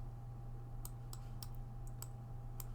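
Typing on a computer keyboard, half a dozen quick, light key clicks spaced irregularly over a steady low electrical hum, close and quiet.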